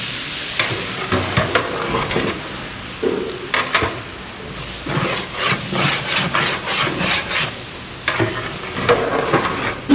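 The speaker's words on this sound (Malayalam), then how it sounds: "നെയ്യ് ഉരുകി കഴിഞ്ഞാൽ അതിലേക്ക് വലിയുള്ളിയും പച്ചമുളകും ഇട്ട് വഴറ്റുന്നു" Shallots and green chillies sautéing in melted mutton fat and coconut oil, a close hissing sizzle broken by bursts of stirring and scraping against the pan.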